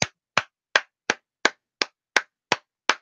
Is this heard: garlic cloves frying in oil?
no